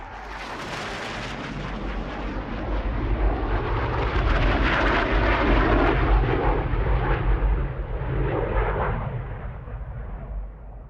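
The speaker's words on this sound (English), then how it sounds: "modern, fast-jet military aircraft practicing low-level flying down the valley" A low-flying military fast jet roars overhead down a Scottish valley, a loud rumbling blast that swells to a peak and slowly fades as it passes.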